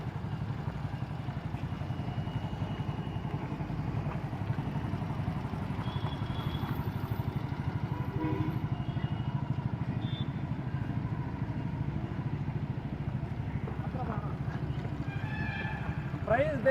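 Agricultural bike trolley engine running while the hydraulic lifting trolley moves in reverse: a steady, close motorcycle-like engine chug with light rattling, some faint sounds near the end.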